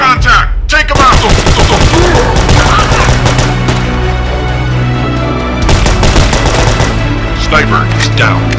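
Sustained heavy gunfire in a firefight against snipers: loud, dense automatic bursts and overlapping shots fill the whole stretch, with a brief lull near the start and another burst building toward the end.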